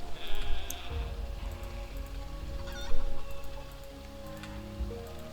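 Chickens cluck and squawk in a farming video game, several short calls scattered over a busy ambient bed of other game sounds, with a louder burst midway and no voices.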